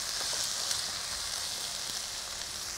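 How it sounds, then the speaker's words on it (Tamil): Tomatoes sautéing with softened onions in a pan make a steady, moderate sizzle and hiss that carries on unbroken, with no talking over it. "இதில் தக்காளி, தக்காளி சேர்த்து வதக்கும்போது"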